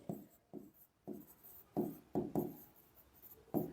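Writing on paper during a maths lesson: a series of close, quiet pen strokes come in short bursts with brief pauses between them, and no one speaks.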